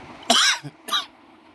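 A voice imitates an old man's cough: two raspy, hoarse bursts close up with a short pause between them.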